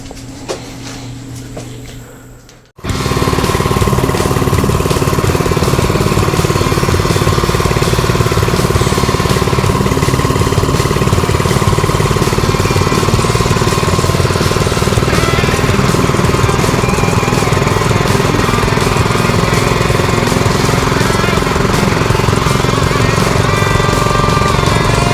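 A minibike engine fires up and runs on choke, a loud, steady, rough mechanical drone close by that holds for over twenty seconds after a brief quieter start.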